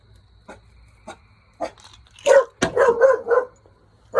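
A dog barks several times in short bursts, close by, with a few louder yelps clustered toward the end.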